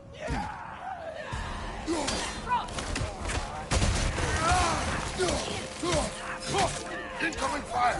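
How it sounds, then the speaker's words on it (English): Incoming gunfire during a battle in God of War Ragnarok, with scattered shots, shattering impacts and shouting voices mixed into a busy, loud combat scene. "Incoming fire!"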